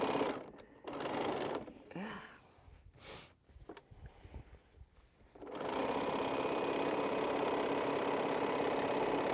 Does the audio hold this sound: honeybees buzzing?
no